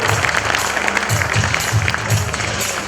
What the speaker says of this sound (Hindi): तालियां बजी दीजिए दोस्तों